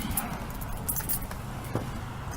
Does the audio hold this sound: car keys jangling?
yes